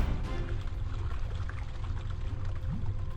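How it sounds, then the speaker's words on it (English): Powerful floodwater surges and rushes through a submerged area during extreme weather, carrying off vehicles; a loud, continuous roaring churn with no voices. "A devastating flood has submerged the entire area, sweeping away all vehicles and belongings in its powerful current."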